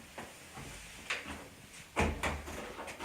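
A metal hinge pin is pushed through a hinge-pin door stop and into a door hinge, producing a few close, soft clicks and knocks, with one louder metallic clack near the end.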